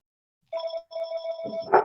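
A phone rings once during a housing workshop meeting, a short bright electronic tone over quiet background, cut off with a rustle at the end.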